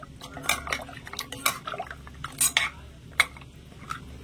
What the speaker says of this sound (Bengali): চিনি রসের মধ্যে মিষ্টিগুলো ছেড়ে দেব। নেড়ে ছেড়ে একটু মিশিয়ে নেব।